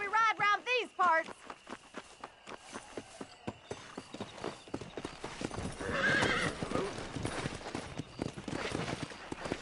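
A horse in a video game race whinnies, then breaks into rhythmic hoofbeats that speed into a steady gallop, loud and close, with game voices and music around it.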